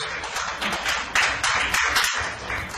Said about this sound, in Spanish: Aplauda al Señor fuerte, con alegría, con regocijo.